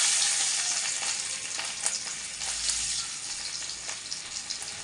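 Garlic frying in a smoking-hot wok, a bright, hissing sizzle that stays close and steady throughout, with a few brief crackles and pops on top.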